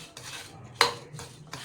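Metal spoon stirring ghee into a wheat totha mixture in a pot, giving a few soft scraping strokes with one sharper clink near the middle, close and fairly quiet with no one talking.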